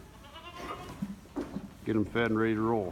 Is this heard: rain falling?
no